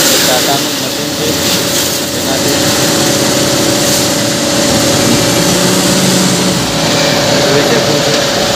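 A Tata machine loading a tractor with stone at a quarry, giving a steady loud engine drone with a low hum throughout while someone talks over it.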